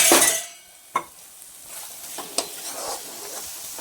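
A spoon stirs pumpkin halwa with ghee in a pan, giving a few sharp scraping knocks against the metal over a soft sizzle and quiet background clatter.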